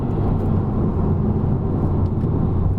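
A Honda Civic Type R engine pulls steadily in fourth gear, with a loud, constant low drone and road roar from inside the car throughout.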